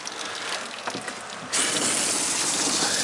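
Hot water tap in a motorhome opened to run, a steady broadband gush that jumps louder about halfway through and keeps flowing evenly, close and alone.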